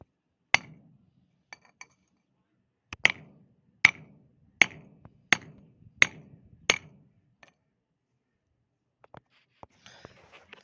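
A hammer strikes a punch to press small nuts onto a handbrake cable, giving sharp metallic clinks in a steady series of about seven close, loud blows separated by silence, followed by a few lighter taps.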